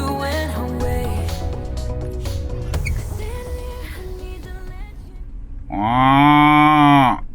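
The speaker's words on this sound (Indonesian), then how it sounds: "Ini sapi ini guys. Di peternakan untuk ke" A cow at a dairy farm lets out one loud, drawn-out moo near the end, coming after a stretch of background music with no one talking.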